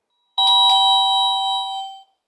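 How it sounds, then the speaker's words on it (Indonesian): Two soft, relaxed ding-dong doorbell tones from an alarm device, the second struck just after the first, ringing out clearly and fading over about a second and a half with no talk. "Mulai dari nada bel santai yang bisa kita pakai untuk jadi bel tamu"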